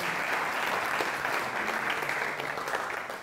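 A lecture audience claps for an economist, dense steady applause filling the room and holding strong before tapering slightly at the end.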